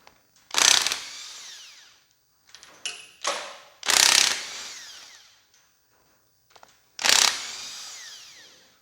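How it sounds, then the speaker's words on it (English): A power tool rattles off the bolts on a Massey Ferguson MF135 6-speed tractor's hydraulic lift cover in three loud, close bursts, each one whirring and then ratcheting down, with quiet pauses and small clanks of handling between them. "You'll have to rattle these other ones off."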